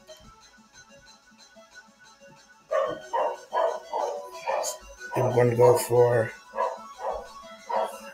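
A dog barks in a quick series of sharp, nearby yaps while someone talks over and between them indoors.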